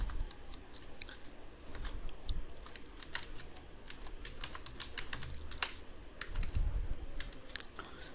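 Computer keyboard keys are typed in a steady patter of light, close clicks over a faint background hum, with no one talking.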